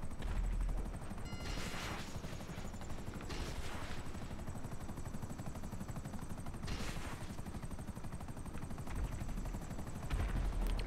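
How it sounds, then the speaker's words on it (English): Rocket fire and gunfire aimed at a helicopter in GTA V, with bursts of launches and blasts over a steady rotor drone that runs through the whole stretch. "My rockets don't keep up with him."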